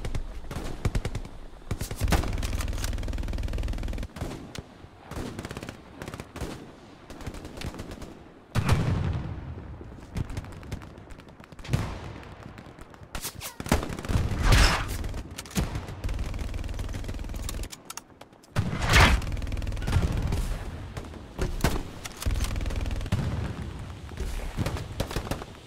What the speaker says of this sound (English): There's a machine gun right behind you